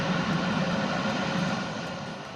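A fixed-wing airplane flying low and slow on a landing approach gives off a continuous, moderately loud engine roar and broad rumble that holds steady and eases slightly toward the end.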